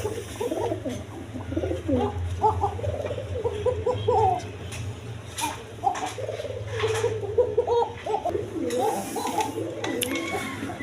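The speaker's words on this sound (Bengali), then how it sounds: "এইখানে এক পেয়ার আপনার জার্মান বিউটি কবুতর আছে" A pair of German Beauty pigeons coo repeatedly at close range on a pigeon farm, soft throaty phrases over a steady low hum.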